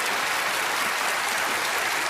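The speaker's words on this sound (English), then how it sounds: "everyone else, give our stars a round of applause." Studio audience applause on a TV magic show, a dense, steady wash of clapping from a large crowd that holds evenly throughout.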